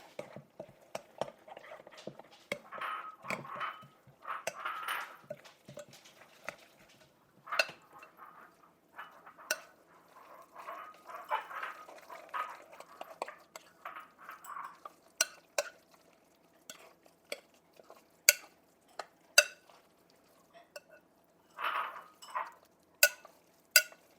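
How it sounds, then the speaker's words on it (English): Homemade dog treat dough being mixed in a bowl: soft, irregular stirring and scraping strokes come in bursts, with sharper clinks of a spoon against the bowl growing more frequent near the end; no talking. "Mix it up and see what kind of consistency we have."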